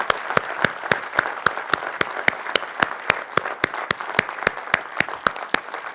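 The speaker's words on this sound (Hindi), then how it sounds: "ओ इनके लिए जोरदार ताली।" Audience at an Atomy India business felicitation event claps as a standing group is honored: a steady, fairly sparse run of sharp individual hand claps, evenly paced and close, with no talking over it.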